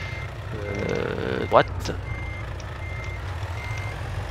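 Reversing beeps from a truck backing up with a trailer in Euro Truck Simulator 2, sounding as a short run of steady electronic beeps over the low drone of the idling engine, with someone briefly speaking.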